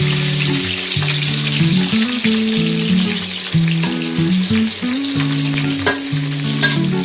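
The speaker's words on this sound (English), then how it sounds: "stir fry the big onion." Big onion stir-frying in a pan for an egg omelette, a loud steady sizzle running throughout with tonal musical sounds layered over it and no talking.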